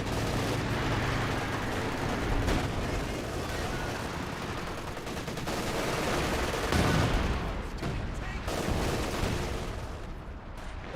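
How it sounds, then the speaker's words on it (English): Heavy DShK machine guns rattle in sustained bursts across a Company of Heroes 2 battlefield, with dense overlapping gunfire and distant booms continuing for the whole stretch. "Sound like there was 2 Dishkas firing against him."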